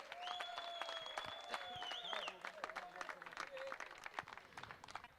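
A crowd at a cricket-league prize ceremony in Seawood claps, and high whistles cut through the sound. Everything is faint and distant, with uneven bursts of applause and some voices mixed in.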